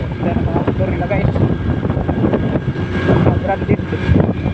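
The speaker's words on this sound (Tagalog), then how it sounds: "Yan ang mga motor nila guys." Several boat motors drone steadily and loudly over open water, with wind buffeting the microphone and voices faintly under the engine noise.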